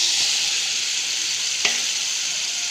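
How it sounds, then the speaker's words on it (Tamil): Dried fish (karuvadu) sautés in oil in a pan, giving a loud, even sizzle broken once by a quick scrape of the spatula. "நல்லா எண்ணெய் பிரிஞ்சு வர்ற அளவுக்கு வதக்குங்க"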